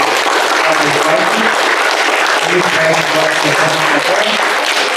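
Audience applause for a team at a youth IT bootcamp project defense, steady dense clapping throughout at even loudness, with a faint voice in the background.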